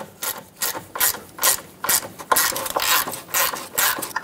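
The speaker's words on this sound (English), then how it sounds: "let's grab a 10 millimeter and remove the bolt that secures the line onto this bracket" A ratchet with a 10 mm socket loosens the bolt holding the power steering pressure line to its bracket on a 2008-2020 Dodge Grand Caravan. The clicking comes in loud, close, rhythmic bursts about every half second.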